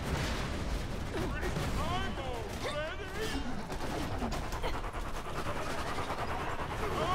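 Rapid, continuous gunfire with booming explosions in the video game Borderlands 2 fills the whole stretch, loud and dense, with a person talking over the din.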